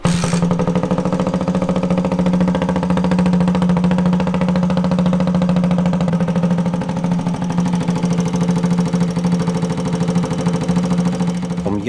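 A kick-started Chinese Futong bobber motorcycle engine, cold, idles steadily and loud for the whole stretch, a throbbing low rumble with a rattling, ticking mechanical edge and no voices.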